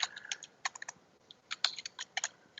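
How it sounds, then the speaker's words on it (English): Typing on a computer keyboard, with irregular bursts of crisp key clicks and short pauses between them, close and fairly quiet, with no talking. "already typing is becoming a hell lot of a task even for me"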